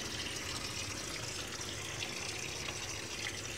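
Water streams steadily from the membrane outlet of a water vending machine, a continuous close hiss and splash holding at even, moderate loudness throughout.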